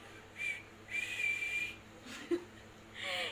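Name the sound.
voice imitating a whistle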